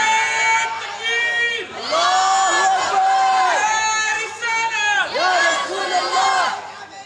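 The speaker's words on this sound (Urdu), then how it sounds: "حضرت کا استقبال نعرے کی گونج میں کیجیے، اور نعرہ میری جانب سے نہیں بلکہ آپ کی جانب سے ہونا چاہیے۔" Large crowd at a religious gathering chanting slogans in unison to welcome a speaker, loud repeated shouted phrases in waves, with a leader calling out and the crowd answering.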